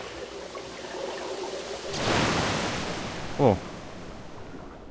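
River water rushes in the Metro Last Light Redux video game, a broad steady roar that surges louder midway, with a brief voiced exclamation near the end.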